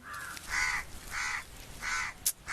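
A crow caws four times in a steady rhythm, loud and close, with a short sharp click near the end.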